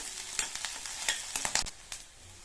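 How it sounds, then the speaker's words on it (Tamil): Slit green chillies sauté with garlic and onion in a pan for a mint chutney. A spatula scrapes and stirs in quick, irregular strokes over a soft, steady sizzle, with no voices. "பச்சை மிளகாவையும் லைட்டாக வதக்கி விட்டுட்டு"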